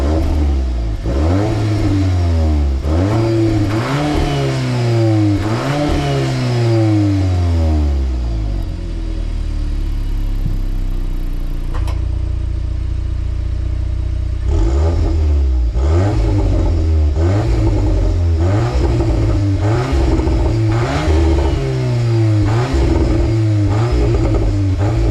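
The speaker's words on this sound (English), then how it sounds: "let's go ahead and get a little exhaust clip," A 2023 Volkswagen Golf R with a quad-tip exhaust revs up repeatedly, loud and close, with rising and falling engine sweeps, a brief settle to idle near the middle, then another run of sharp revs.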